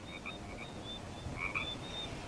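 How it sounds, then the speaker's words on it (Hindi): Frogs croaking outdoors after rain in a steady chorus of short repeated calls, one nearer burst standing out midway. "बाहर से मेंढकों की आवाज आ रही है"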